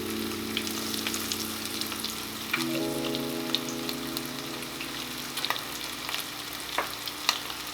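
Speckled trout frying in hot oil, a steady close sizzle and crackle running throughout with occasional sharper pops, and a faint tonal hum in the background.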